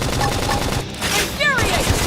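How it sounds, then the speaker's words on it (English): Bursts of cover gunfire rattle through a video game battle, dense and continuous for about two seconds, layered with other game sound effects and a short whooshing sweep near the end. "Lay down some cover fire."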